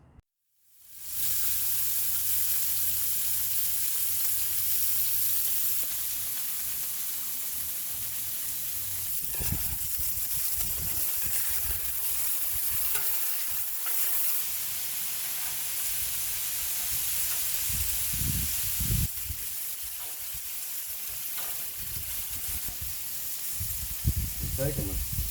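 Burgers sizzle steadily on a Blackstone flat-top griddle cooked outdoors for a family meal, a constant close hiss running throughout with occasional scraping and clatter, and people talk intermittently over it.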